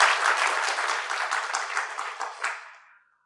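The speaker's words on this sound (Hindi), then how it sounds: "ताली बजाओ ना जरा, अच्छे दर से बजाओ ना" An audience at a Brahma Kumaris talk claps on request, steady dense applause for about three seconds before it fades out.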